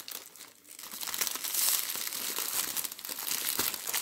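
Crinkly plastic wrapping on a transparent blue advent calendar package crackles and rustles close up as it is torn open by hand, a continuous busy crumpling with sharp snaps.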